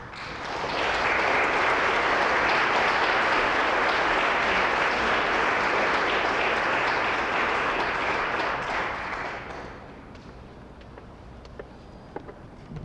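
A large audience applauding loudly and steadily after a poetry reading at a celebration event, then fading into scattered claps and room noise near the end.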